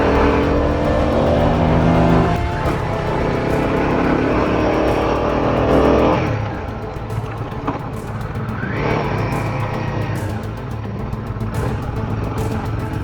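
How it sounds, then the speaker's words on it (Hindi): A motorcycle engine labours and drones as it strains to pick up speed climbing a steep mountain road, loud and continuous with shifting pitch and wind rush, no talking. "बाइक को भी सांस नहीं आ रही, बाइक भी पूरा जोर ले रही है अपने पिकअप के लिए।"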